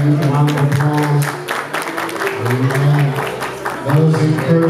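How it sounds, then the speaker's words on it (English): A congregation claps for children leaving the Kids Corner during a Sunday morning worship service, with moderate, steady applause mixed with crowd murmur and voices throughout. "Let's give a round of applause"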